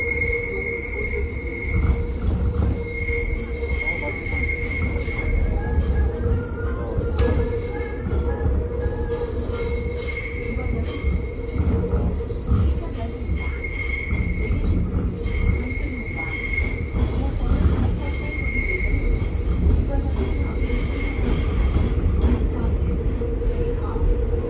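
A subway train in Korea rolls along with rumbling wheels and repeated high squeals at a steady rhythm, heard from inside the car at moderate level, with occasional voices underneath.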